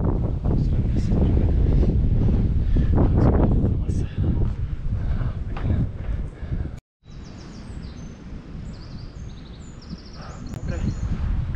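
Wind gusts across a lookout tower on a hilltop and buffets the microphone with loud, rough rumbling throughout. Voices can be heard under it, and there is a sudden dropout partway through.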